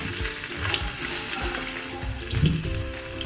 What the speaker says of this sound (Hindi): अब इसमें गोश्त डालना है